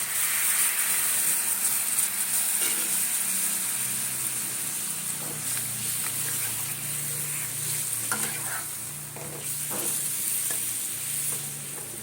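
Spiced chicken sizzles and fries loudly in a hot pan as meat stock is poured in, a steady hiss with scattered stirring scrapes running throughout, no voices.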